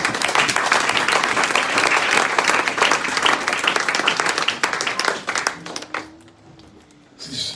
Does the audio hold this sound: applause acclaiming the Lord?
yes